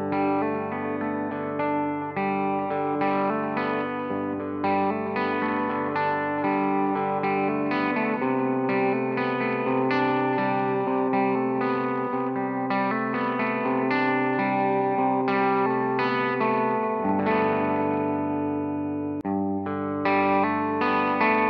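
Electric guitar played through a Vox AC30 amp with effects patches, moving between clean, overdriven and lead tones, with sustained chords and melodic lines heard steadily and loudly with no talking.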